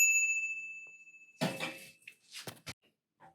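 A newly fitted bicycle bell gives one bright ring that decays slowly over about a second, followed by a few loose rattles and clanks of handling nearby.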